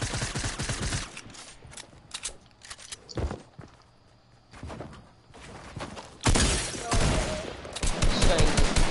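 Rapid Fortnite gunfire crackles in dense bursts, close and loud, with pauses between volleys and footsteps in the gaps.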